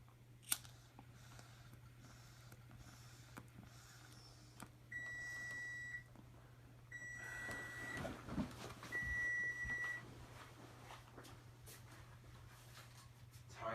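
An oven timer beeps while a bacon cheese stuffed crust pizza bakes: three sustained, evenly spaced electronic tones over a steady low kitchen hum.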